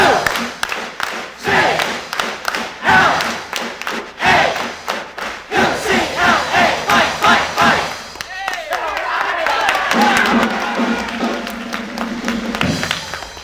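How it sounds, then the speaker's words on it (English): Large UCLA student crowd in 1965 doing an eight-clap cheer, rounds of loud, sharp unison claps in quick rhythmic bursts punctuated by shouts, ending in a sustained roar of cheering voices. "Your first real good 8 clap here at UCLA"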